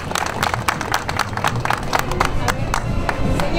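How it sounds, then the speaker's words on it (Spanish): A crowd at a patron saint festival for San Roque claps loudly and close by, with sharp, uneven individual hand claps over a steady rumble of applause. "¡Vengan los aplausos!"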